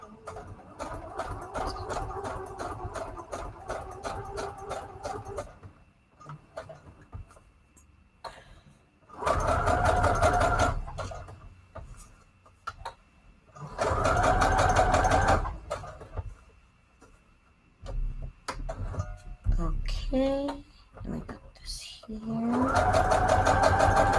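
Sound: sewing machine stitching straight stitch

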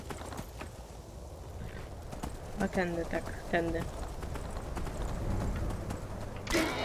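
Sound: horse hooves clip-clopping in Skyrim video game

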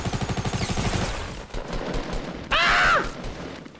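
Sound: gunfire in a video game

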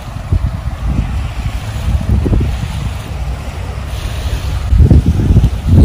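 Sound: sea waves at a beach

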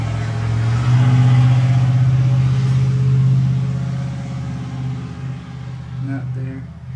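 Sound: truck engine revving without a muffler

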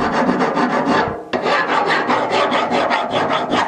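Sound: hand file filing a part to fit, wheelbarrow bearing repair

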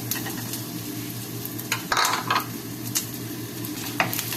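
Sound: onions sautéing in a pan

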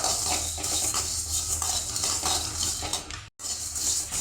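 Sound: roasting coriander in a pan with a spoon

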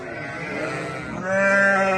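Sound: sheep bleating in a barn

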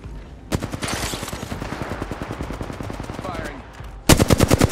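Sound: gunfire in video game Apex Legends

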